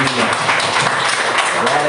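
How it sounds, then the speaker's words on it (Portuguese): Congregation applauding during a Sunday family church service, a steady wash of many hands clapping with voices mixed in. "que as palmas louvem ao Senhor"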